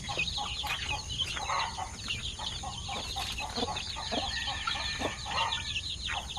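Hens clucking steadily beside their chicks in a poultry housing area, close and continuous with soft peeping chicks and scattered fowl calls, no speech.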